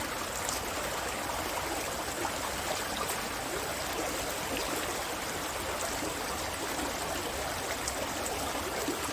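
Clear, cool water from the Khlong Bang Phai reservoir flows as a stream toward the sea, a steady, close, even rushing and gurgling that continues without pause and without voices.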